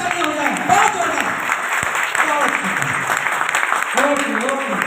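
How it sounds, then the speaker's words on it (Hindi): An audience applauds at a three-day business seminar at a resort, a steady wash of clapping that runs throughout, while someone talks over it on a microphone. "एक बार इनके लिए जोरदार तालियां हो जाए,"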